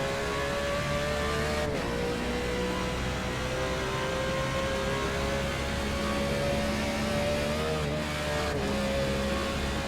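Race car engine revving hard and loud as the car comes over a rise, a continuous high drone with slight pitch dips, no talk over it.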